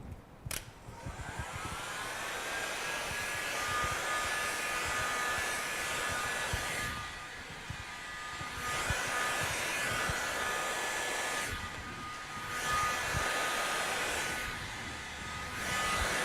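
A heat gun warms vinyl wrap film to about 90 degrees while it is laid over a heavily deformed car body panel. The steady, close blowing whir runs for the whole stretch, with a few short dips where the gun is moved away.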